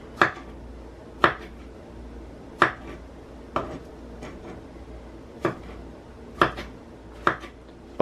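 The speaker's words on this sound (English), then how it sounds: "I'm gonna finish dicing the rest" Knife dicing food on a cutting board, sharp isolated chops spaced about a second apart, close and crisp in a quiet kitchen.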